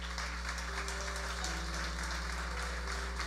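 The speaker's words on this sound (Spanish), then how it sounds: "Vamos, suéltale un poderoso aplauso a mi Dios." Congregation in church applauding, a fairly faint, steady wash of clapping beneath sustained musical tones.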